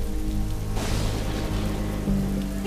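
Steady rain pours down in a dense, even hiss with a low rumble underneath. It is loud and continuous throughout.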